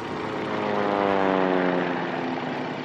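Propeller airplanes flying during a troop airlift, a steady, loud droning engine hum with layered harmonic tones that swells slightly and holds for about three seconds, with no voices.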